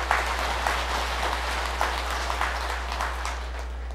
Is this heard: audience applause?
yes